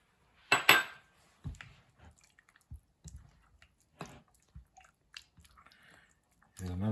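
Chicken wings being hand-mixed with masala and lemon juice for chicken 65 give soft, wet squishes and light clicks spaced through a quiet stretch, with a sharper clatter near the start and a dull rumble at the end.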